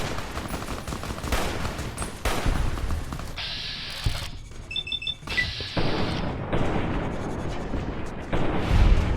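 Gunfire crackles between fighters and prospectors in Fallout: New Vegas, with sharp bursts of shots in irregular volleys, some loud and close, others more distant, broken by brief quieter gaps and a few tonal game cues.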